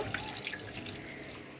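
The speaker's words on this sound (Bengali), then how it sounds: "এখন ধুয়ে পরিষ্কার করে নিব" Beef liver pieces rinsed under a running kitchen tap, a steady close stream of water splashing into a sink without pause.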